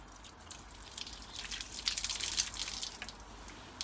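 Water pours and drips steadily from a spout into a container, a light splashing trickle that swells in the middle and then tapers off, with no talking.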